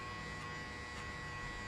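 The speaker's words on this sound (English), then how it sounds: "Always flick the clipper out." An electric hair clipper buzzes steadily and close up while cutting a taper fade, a constant quiet hum with no pauses.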